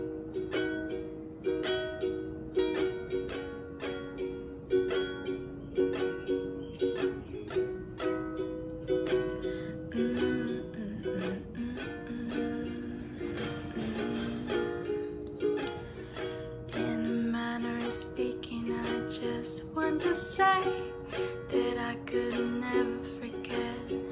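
Ukulele strumming the chords of a song, a steady rhythmic pattern of bright chord strokes played alone and up close.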